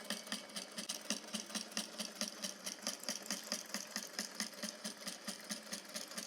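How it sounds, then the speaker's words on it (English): A Juki DDL-8700 walking foot industrial sewing machine stitches through four layers of canvas, running with a steady rapid mechanical thump and whir, close and alone at an even pace. "This is 4 layers of fabric. This is quite a lot, and this is canvas fabric"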